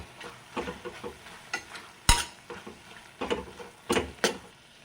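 A spoon scrapes and stirs garam masala and cumin powder in a pan for paneer kurma, giving irregular scraping strokes over a faint sizzle, with a couple of sharper knocks against the pan.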